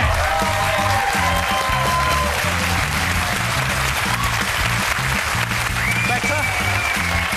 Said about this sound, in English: we all want a big cheer